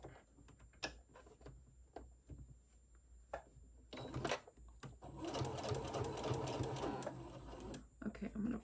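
A sewing machine stitches pleats into a fabric face mask: scattered soft clicks and handling at first, then a steady, close whirring run of stitching that lasts about three seconds before stopping.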